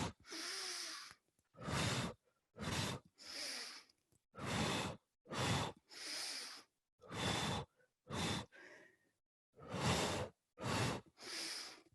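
Rhythmic, forceful breaths during a Pilates exercise, about a dozen sharp exhales in a steady pull-and-release pattern, close and clear with short pauses between.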